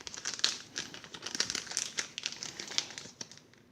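Close crinkling of plastic wrapping and packaging while the contents of a Star Wars X-Wing Scurrg H-6 bomber miniatures game expansion are unboxed, irregular crisp rustles and crackles throughout.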